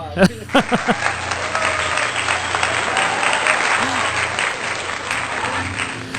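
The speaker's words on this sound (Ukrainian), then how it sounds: "це оплески, які відбуваються десь там за лаштунками" Applause from an offstage audience reaches a dressing room before a band plays: a sustained, muffled wash of clapping from a distance, with a few close taps and a voice at the start.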